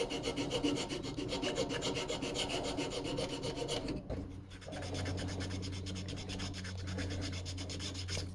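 Steady rasping strokes of sandpaper on a small wooden trout lure, smoothing hardened superglue flush with the wood, continuous and close with a brief pause midway.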